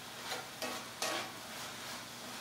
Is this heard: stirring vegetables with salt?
yes